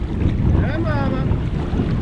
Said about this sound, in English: Love this headwind.